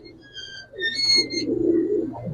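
Giribaz pigeons coo in low, soft throaty murmurs, with a few thin, higher bird chirps mixed in at moderate loudness, steady over the short stretch with no talking.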